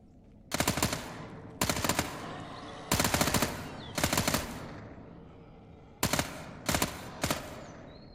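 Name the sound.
submachine gun fire in the video game Fear the Night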